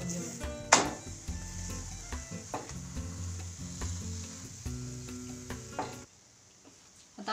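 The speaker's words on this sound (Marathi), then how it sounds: "कडेने थोडंसं तेल सोडून घेऊया आणि आता हा पलटून घेऊया." A flipped cauliflower paratha sizzles in oil on a pan, giving a steady close crackle with occasional spatula scrapes and clinks. The sizzle drops away near the end.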